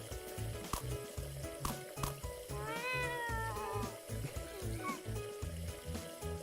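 A cat meows in the video game Catlateral Damage, a short rising, wavering call that rises over a loud, rhythmic game soundtrack, with a voice talking alongside.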